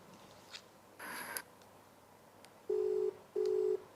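Telephone tones during a call: a brief high electronic beep, then two longer steady tones with a short gap between them, clear and close over quiet background hiss.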